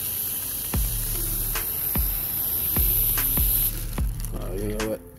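Foam cleaner sprays in short bursts inside a custom Dodge Journey near the pedal box, about six sharp hissing spurts over a steady background hum.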